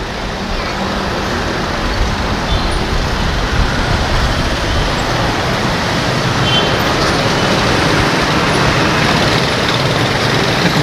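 Road noise from a jammed street near a fire fills the scene with a constant loud rumble of engines and traffic, while someone talks over it.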